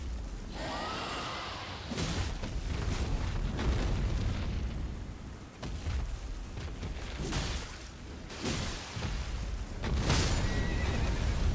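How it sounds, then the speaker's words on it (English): A horse whinnies in the Elden Ring video game amid a dense, loud mix of combat rumble, booms and hoofbeats, with several neighing bursts spread across the stretch and no talk. "There goes the horse again."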